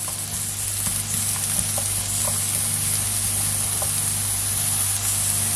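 Butternut squash filling with onion or leek browning in a pan, giving a steady, close sizzling and frying hiss with faint crackles throughout, no voices.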